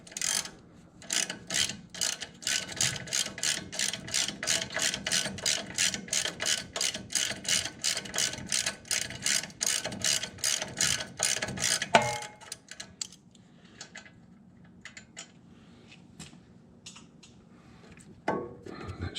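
Rapid ratcheting clicks from a wrench working loose a hard brake line on an '08 Toyota Tacoma, a steady close run of sharp clicks for about twelve seconds, then quieter scattered tool clatter with no talking.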